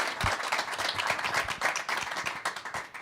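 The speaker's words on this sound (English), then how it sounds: "We love the cheers." Crowd applauding and cheering in a hockey arena in Buffalo after the announcement of the 2026 NHL Draft, with dense, steady clapping that swells and carries on for the full stretch.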